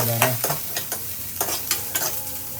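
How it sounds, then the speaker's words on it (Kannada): Onions fry in a pan with a steady sizzle, broken by repeated scraping stirs of a spatula at a quick, irregular rhythm. "ಈರುಳ್ಳಿ ಫ್ರೈ ಮಾಡಬೇಕು."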